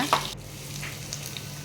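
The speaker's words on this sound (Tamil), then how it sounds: "வெறும் காஞ்ச மிளகா போட்டுக்கோங்க நல்லா வதக்கிடுங்க" Dried red chillies sauté in hot oil for a mint chutney tempering, giving a steady close sizzle with a brief scrape or clatter near the start, then an even crackle.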